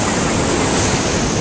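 Loud, close surf from Tropical Storm Alex breaks steadily onto an eroding beach at Roatan, a continuous roaring wash of waves with wind buffeting the microphone.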